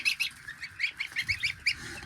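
Repeated high, thin peeping calls from newly hatched goslings, several chirps in quick succession, close by and fairly steady, with faint low rustling underneath.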